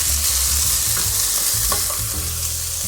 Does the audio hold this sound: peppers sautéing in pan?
yes